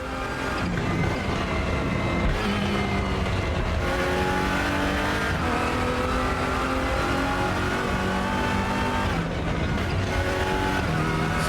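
Race car engine in the Raceroom sim, loud and continuous, revving up and down through gear changes with steady engine tones and occasional dips between shifts, no talking.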